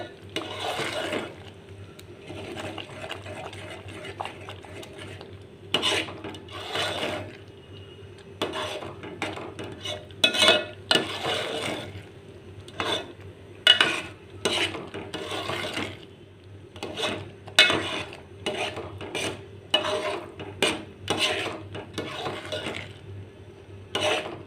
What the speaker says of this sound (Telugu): ఇదంతా మనం బాగా కలుపుకోండి, లేదంటే అడుగంతా మాడిపోతుంది